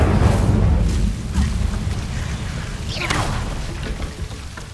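An Incendio fire spell cast in Hogwarts Legacy, heard as a loud roaring, rushing burst of flame with crackling whooshes that rise again partway through and slowly fade.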